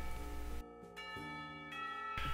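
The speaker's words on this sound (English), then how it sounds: "Somewhere the school bell rings, the last call of the day." A school bell rings in the visual novel Katawa Shoujo, a sustained tonal chime that shifts pitch in a few steps, heard alone at moderate level over a couple of seconds.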